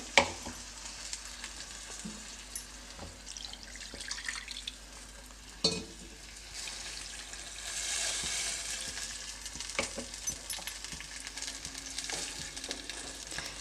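Brinjal (eggplant) curry sizzles in a pan over the flame, a steady close fry with scraping stirs, a couple of sharp knocks and brief watery splashes, and no talking.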